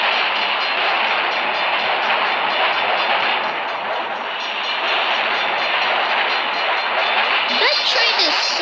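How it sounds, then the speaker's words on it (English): A long video-game train rolls past a crossing, a loud continuous rumble and rattling clatter of cars that holds steady for several seconds, with a crossing bell ringing above it. "Trains in this game is so long."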